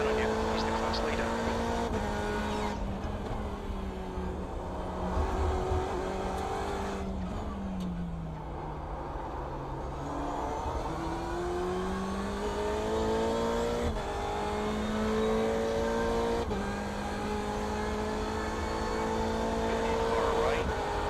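GTE-class race cars lap Road Atlanta in a racing video game, their engines droning and shifting pitch as they rev, downshift and pass. A voice speaks over the steady engine noise.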